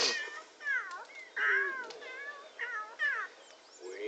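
Cartoonish cat meows from The Sims 3 Pets video game, a series of short, bright meows and trills repeating in quick succession, clear and close, with no other sound behind them.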